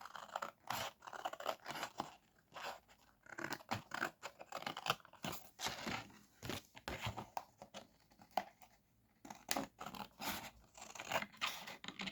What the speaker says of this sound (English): And then cut away the extras.